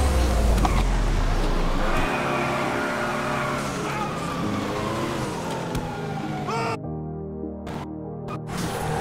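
A car drives through snow in GTA 5, its engine droning steadily with a gliding pitch and gear changes, then a cut to sparse, choppier engine sounds near the end.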